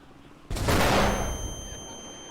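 Flashbang grenades go off in a GTA roleplay game, a sudden sharp bang followed by a bright ringing hiss that slowly fades over a couple of seconds.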